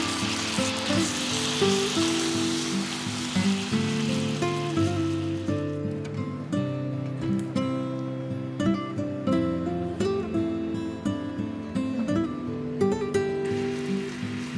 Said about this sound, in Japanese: 火が通ったら残りのタレとバターを加えて全体を炒め合わせたら完成です。